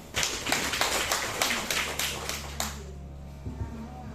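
A group claps together at an Indonesian gathering, a series of rhythmic, evenly spaced claps for about three seconds that then stops, leaving a low hum.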